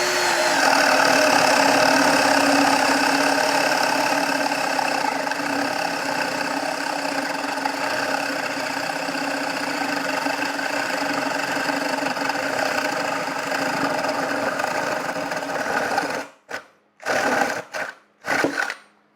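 Ryobi ONE+ 18V brushless compact drill boring a 1.5-inch paddle bit into wood, a loud steady whirring hum for about sixteen seconds, then several short stop-and-start bursts as it finishes.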